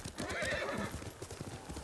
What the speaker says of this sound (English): Let's take a horse to not waste time.